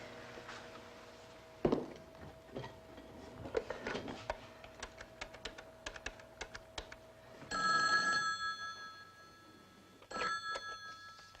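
A telephone rings in a period police drama, bursts of bright bell ringing separated by quieter stretches of clicks and taps, fairly faint overall.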